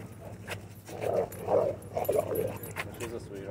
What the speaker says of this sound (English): Was that your dog or my dog? Because he makes all types of sound effects